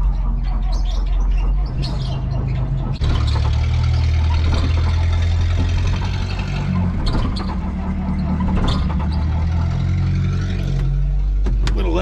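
A Caterpillar wheel loader bought at auction with serious issues, its diesel engine turning over and running, a steady heavy low rumble that shifts pitch as the throttle changes, loud and close throughout.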